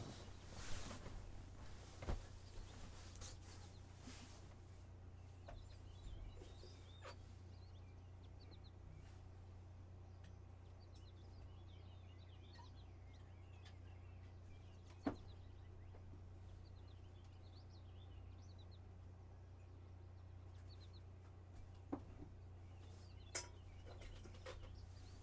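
Birds chirp and tweet faintly outdoors on a warm morning, scattered calls over a steady low background hum with a few distant knocks.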